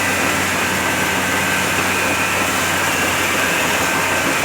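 Loud, continuous mechanical roar and whir of a village rice mill running steadily, with no pauses.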